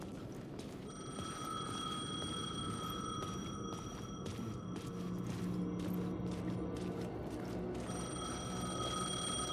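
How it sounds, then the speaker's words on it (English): Payphone ringing in the video game Alan Wake II, a bright electronic bell sounding in two long rings separated by a pause, moderately near over a low ambient rumble with faint footstep-like clatter. "The payphone was ringing."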